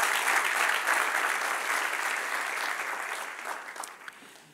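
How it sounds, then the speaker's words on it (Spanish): A church congregation applauds during a sermon, dense steady clapping that fills the space and gradually tapers off near the end, with no talking over it. "Denle un aplauso al que reina."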